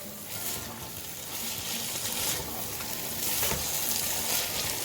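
Mutton keema sizzling and frying in a pan on high flame, a steady loud crackling hiss with occasional stirring scrapes and no talk.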